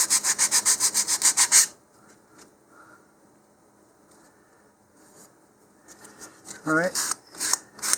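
A model rocket part is rubbed by hand against sandpaper in a quick burst of scratchy strokes, then a quiet pause and a few more short rubs, with a person speaking briefly.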